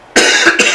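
A person with a cold coughs twice, close and loud, a sharp burst followed by a second quicker hack, during a live upholstery workshop.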